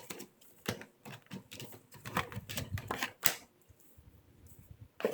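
Tarot cards being spread out across a table, a quick flurry of soft slaps, flicks and papery taps, fairly faint and close, with no talking.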